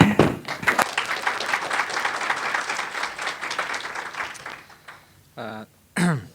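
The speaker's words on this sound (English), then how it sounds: "Please applaud." Conference audience applauding a speaker's introduction: a loud sustained wash of clapping for about five seconds that fades out, followed by brief speech.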